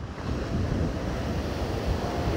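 Sea waves hit a breakwater on the Fortaleza seafront, a continuous broad roar of surf mixed with wind buffeting the microphone, with no voices.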